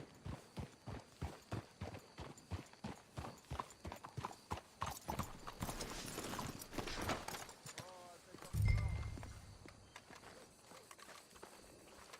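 Steady horse hooves clip-clop in a regular rhythm in Red Dead Redemption 2, a louder thump near the end, with faint bird calls in the background.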